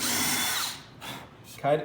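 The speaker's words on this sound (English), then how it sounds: "Try to keep the drill, if you're drilling at an angle, that's fine, but make sure you stay at that angle" A power drill bores into wood at an angle in a woodshop, a high whining buzz for most of a second that cuts out, then brief spurts of the motor and a short murmur of voice.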